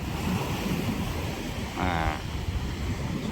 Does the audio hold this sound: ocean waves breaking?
yes